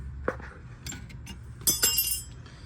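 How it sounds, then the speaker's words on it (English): A metal clip is pried off a car's front suspension during a coilover install near the sway bar and tie rod: a few light, close metallic clinks and clicks scattered over a quiet garage background. "let's remove this clip right here"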